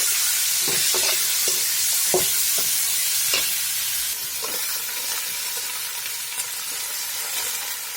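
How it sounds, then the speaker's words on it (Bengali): Mixed vegetables fry and sizzle in a pan after tomatoes and salt, with a steady close hiss and several sharp stirring scrapes early on, no talk. "সবজি একটু লাল করে ভেজে নেব।"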